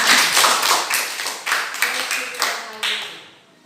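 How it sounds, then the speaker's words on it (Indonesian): A classroom full of students clapping their hands together, a dense burst of applause that comes in several swelling waves before fading away toward the end. "Ya, tepuk tangan."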